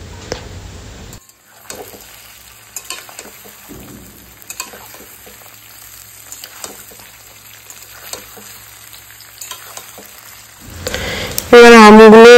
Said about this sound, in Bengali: এবার আমগুলো ভাজা ভাজা হয়ে গেছে, লাল লাল টাইপের হয়ে গেছে।